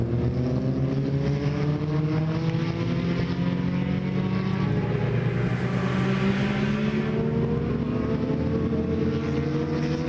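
Racing engines drone continuously on a historic racing circuit, including a Toyota GR Corolla, their pitch rising and falling as cars pass at a steady, moderately loud level without any talk.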